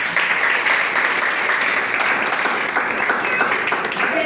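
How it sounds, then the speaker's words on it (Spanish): Church congregation applauding during a Palm Sunday service in San Diego, Cesar; dense, steady clapping from many hands fills the space continuously throughout, with no speech over it. "Denle un aplauso"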